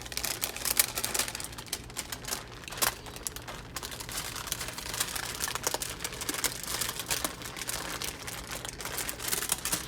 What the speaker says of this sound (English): And just carefully peel off parchment paper